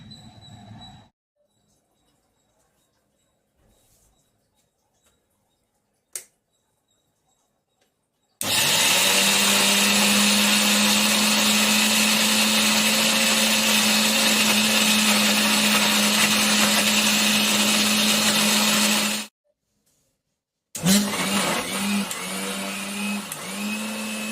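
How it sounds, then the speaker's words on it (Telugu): A mixer grinder churns mung bean batter for pesarattu with a loud, close, steady motor roar lasting about ten seconds. It cuts off, then starts again briefly, with quiet pauses and small clicks around the runs. "పెసరట్టు పిండి రుబ్బుతున్నాము"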